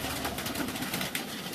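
A flock of 125 breeding and racing pigeons released together from a farm, their wings producing a dense, continuous fluttering rush with rapid beating pulses, close and fairly loud, without speech.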